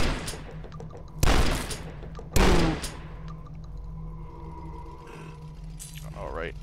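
Two loud shotgun blasts with sharp attacks and ringing tails fire in the retro shooter Dusk, over a steady hum of game music and ambience.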